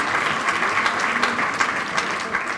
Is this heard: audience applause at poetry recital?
yes